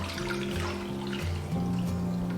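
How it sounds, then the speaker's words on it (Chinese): Steeped tea liquid, meant for a homemade caramel grass-jelly milk tea, is strained and poured in a steady, continuous watery stream over a low background hum. "我们把茶汤给它过滤出来"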